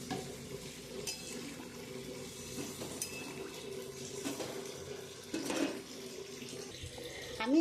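Water pours into a pan of cooked-down spiced oil for a hilsa fish curry with potato and eggplant, a soft, faint splashing and trickling over a low sizzle, with a louder splash near the end.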